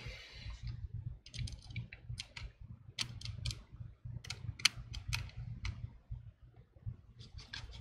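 A small T5 screwdriver drives two tiny screws back into a MacBook Air during a screen repair, making a run of light, quick clicks and ticks close by in a quiet room.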